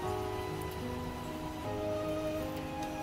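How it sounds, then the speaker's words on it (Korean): Gentle rain falls steadily in Gwangyang, Korea, as a soft, continuous patter on surfaces. A faint hum runs underneath. "여기 광양은 아주 비가 차분하게 예쁘게 내리고 있어요"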